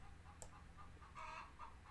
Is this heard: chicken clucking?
yes